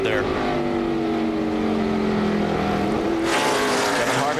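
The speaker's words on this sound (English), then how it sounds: "I hear him on the rev limiter there." A NASCAR Cup race car at the 2003 Subway 500 holds a steady, loud engine note pinned on the rev limiter, with other cars droning close behind throughout.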